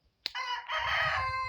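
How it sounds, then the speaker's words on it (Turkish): A rooster crows once on a farm, a long bright call after a short sharp onset, with a faint low murmur beneath. "Aha horoz orada."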